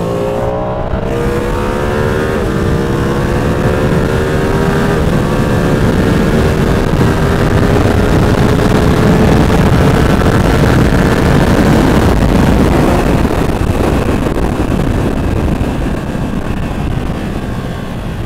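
A Ducati Streetfighter V2 motorcycle ridden hard on a road, its engine loud and close as it climbs steadily through the revs with smooth rising pitch over heavy wind rush, no talking.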